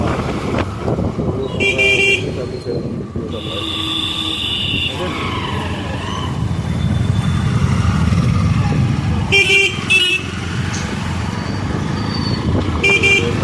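Jammed road traffic heard from a motorbike, with a steady engine and road rumble and several short car-horn toots popping out near and far, while a rider talks over the noise.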